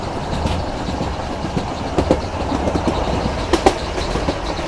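A meter gauge train runs from Junagarh to Delvada through the Gir forest at a moderate speed. Its carriages give a steady rumbling roar, with scattered light clicks and clacks over the track and no voices.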